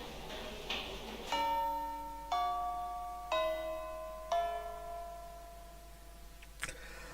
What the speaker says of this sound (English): the bell for homeroom rang